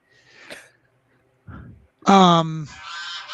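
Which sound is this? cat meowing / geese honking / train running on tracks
geese honking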